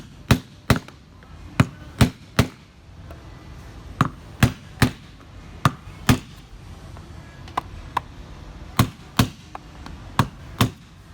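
Crisp metallic taps from a hammer and punch dimpling roof edge metal, in quick pairs and short clusters at an irregular pace, loud and close over faint background noise.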